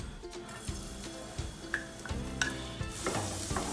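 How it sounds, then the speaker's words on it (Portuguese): Finely chopped garlic cloves sizzling in two spoonfuls of olive oil in a pan, a steady close fry with stirring scrapes and a few sharp utensil clicks against the cookware. "Agora vamos dourar o alho."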